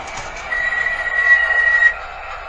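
Distant train, a faint metallic squeal of wheels rising then fading over a low rumble, heard briefly and alone.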